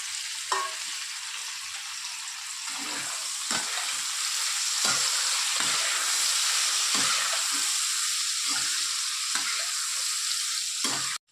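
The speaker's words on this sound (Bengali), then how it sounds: "কাঁঠালটা ভাজা ভাজা হতে থাক" Boiled jackfruit frying in oil in a pan, a loud continuous sizzle with scattered sharp clicks and spatters of a spoon or spatula throughout.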